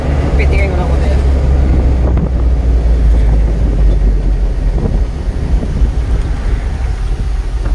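Steady, heavy wind rushes into a moving car and buffets against a microphone, with a low rumbling drone underneath throughout.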